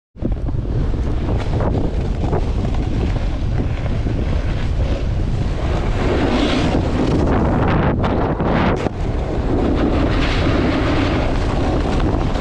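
Strong wind buffets the microphone on top of Big Bear Mountain at a ski resort, a loud continuous roaring rumble that persists with only brief dips, no voices heard.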